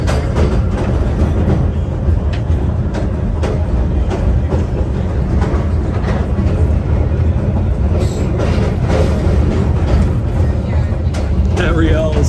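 A vintage subway train rides through the Bronx with a loud, continuous rolling rumble, rhythmic wheel clatter over rail joints and occasional squeals, heard from inside the car.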